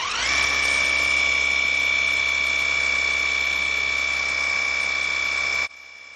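Pressure washer spray gun fitted with a 15-degree nozzle, blasting mold and mildew off dirty vinyl siding: a loud, steady hiss with a constant high whine runs for nearly six seconds, then cuts off abruptly.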